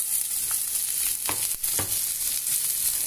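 Bread masala spices sizzle steadily in a hot pan, a constant bright crackling hiss close by with a few soft stirring scrapes and taps and no voices.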